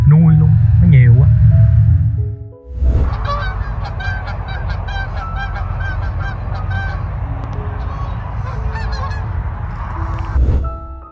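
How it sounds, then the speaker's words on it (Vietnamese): A large flock of wild ducks on a river keeps up a loud, continuous mass of honking and quacking, dense and close, with a voice heard at the very start. "Mấy cái con vịt trời quá trời trên sông bày bày luôn á cô chú."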